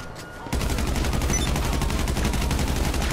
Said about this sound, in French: Oh Prisix, tire mieux putain, mais bute-le, fais quelque chose